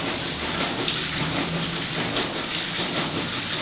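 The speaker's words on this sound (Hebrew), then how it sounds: "אז יורד גשם" Steady rain falls without a break, a dense, even hiss of drops on surfaces that stays loud and unchanging from start to finish.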